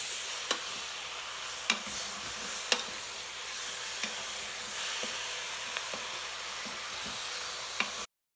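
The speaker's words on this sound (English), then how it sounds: "Move it around a little bit more to get all the herbs in there into the meat." A spoon stirs herbed beef in an Instant Pot, a low steady sizzle with a string of sharp scraping knocks spaced about a second apart, close and clear with no talking.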